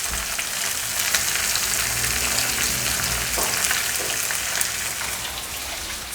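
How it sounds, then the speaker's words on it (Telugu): Onion with curry leaves frying in hot oil for egg pulusu, a continuous dense crackling sizzle close up, steady throughout with no talking. "ఇప్పుడు ఉల్లిపాయ అనేది చక్కగా వేగింది"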